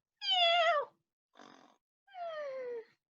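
A human voice imitates a cat, giving two drawn-out meows separated by a short breathy sound, clear and close against silence.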